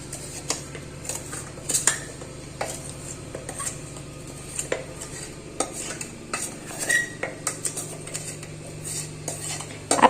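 A spoon stirs powdered sugar into roasted semolina flour for rava ladoo, with repeated scraping and clinks against a metal pan and a faint sizzle underneath, close and steady without speech.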